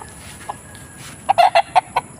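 Chickens on a gamefarm cluck in a quick run of sharp, loud calls near the end, after a few softer clucks over quiet background noise.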